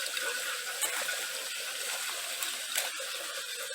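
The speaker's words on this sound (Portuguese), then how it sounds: "Mas está passando água aí direitinho em todos os NFT." Water flowing steadily through hydroponic NFT channels that feed a Dutch bucket system, a continuous broadband rush and trickle heard close and alone, with no talking.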